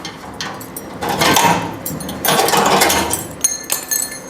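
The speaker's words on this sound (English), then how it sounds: "Take off my little clamps here now." Small metal clamps are taken off a custom fender flare for a 1959 Renault, giving a few close clinks and rattling metal handling noises in two bursts, with quiet pauses between.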